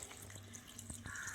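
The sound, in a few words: water poured onto rice flakes for washing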